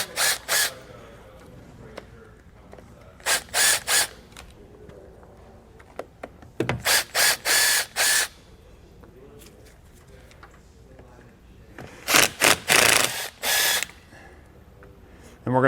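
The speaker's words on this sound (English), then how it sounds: "Phillips or square bit, you can remove the screws holding it in." A drill with a Phillips or square bit backs screws out of RV roof trim, whirring in short, loud bursts separated by quiet pauses.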